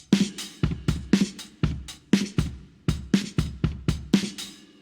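A processed Addictive Drums indie kit, fat and tight, plays a steady groove of punchy kicks and snappy snares with crisp cymbal hits in regular rhythm, close and dry, with no voices.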